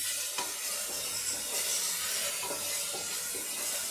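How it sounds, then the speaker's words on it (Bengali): Spice masala for an egg and potato curry is stir-fried in a pan, giving a steady close sizzle broken by several scraping stirs of a spoon, with no one talking. "সব কিছু দিয়েই মশলাটাকে আমি তিন মিনিট ধরে কষিয়ে নেব"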